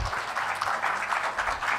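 An audience claps for presenters being welcomed on stage at a project management symposium, a brief dense burst of many hands applauding, fairly loud and even throughout.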